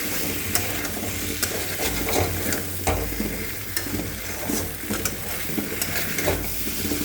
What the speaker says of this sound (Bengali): এখন একটু কাঁচা কলাগুলো দিয়ে দেবো, দিয়ে আর একটু কষিয়ে তারপর আমি গরম জল দিয়ে দেবো।